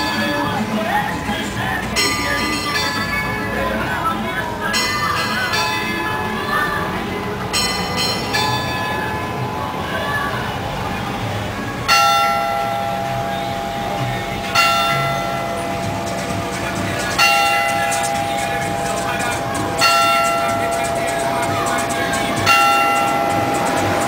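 Bells of the classic town clock in Camargo ring out over a street, repeated tolls with a lingering ring, heard at moderate distance amid steady outdoor background noise.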